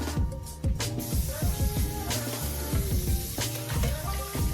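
Bacon sizzling in a frying pan, a steady crackling fry with bright spattering pops throughout, close and fairly loud.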